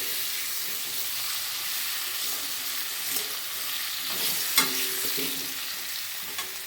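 New potatoes fry with a little turmeric in oil in a pan, giving a steady, close sizzle and hiss with a few soft stirring knocks and scrapes throughout.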